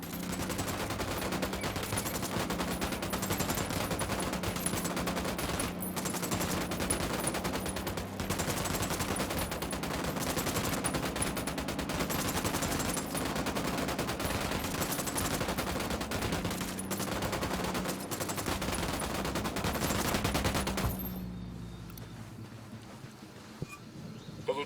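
A dense, continuous firefight from the video game Ghost Recon Wildlands, with sustained bursts of automatic gunfire and rapid shots layered over each other for about twenty seconds before cutting off abruptly.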